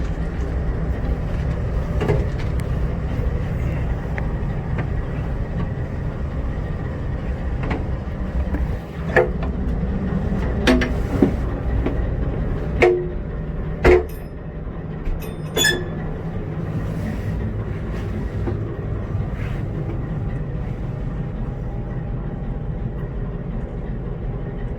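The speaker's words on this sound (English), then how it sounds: "auto carrier train." An auto carrier freight train with a mid-train DPU rolls past, a continuous low rumble of wheels and cars broken by scattered metallic clanks and squeaks, steady and moderately close with no talk.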